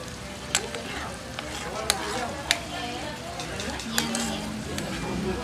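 A mixture for tuslob buwa is stirred slowly in a hot, sizzling pan, soft scraping strokes with a few sharp utensil clicks over a steady frying hiss, with people talking nearby.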